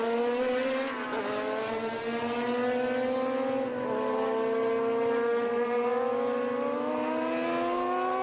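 Vintage single-seater race cars, including Van Diemen cars, circle the track at the Austin SpeedTour, several engines whining and shifting through gears at once, a loud sustained layered drone with rising and falling pitch.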